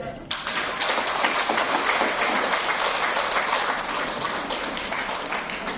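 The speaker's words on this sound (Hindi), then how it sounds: "तालियां बजाए।" Crowd applause from an audience at a Hindi motivational talk, a dense steady wash of many hands clapping that starts abruptly and holds loud and continuous to the end.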